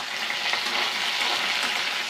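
Crushed elephant apple frying in a pan as it is stirred, a steady dense hiss of sizzling oil filling the whole moment, close and continuous, with no talking.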